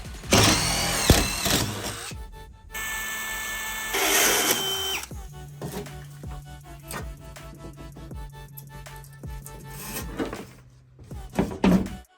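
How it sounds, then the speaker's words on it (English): A power drill fitted with a stepped bit bores into a wall panel during a kit installation. It gives several short, loud bursts of whirring and grinding, broken by clatter and pauses, with a steady hum toward the end. "I'm using the stepping bit to start it. And then I'll put the other bit on to finish it."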